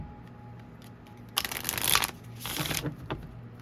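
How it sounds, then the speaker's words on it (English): A short burst of tarot card shuffling, crisp riffling and papery flutter close by, followed by a second softer round of shuffling in a quiet room. "Let me shuffle."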